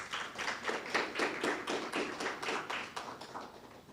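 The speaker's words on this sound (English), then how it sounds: "You can give them a round of applause." Audience applause at a conference, a moderate, fairly distant round of clapping with a loose, rhythmic patter that holds steadily and slowly thins toward the end.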